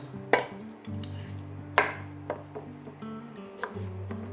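Yellow carrots being chopped with a knife on a board, a few sharp, close, separate cuts at uneven intervals over a low steady hum, with no voices.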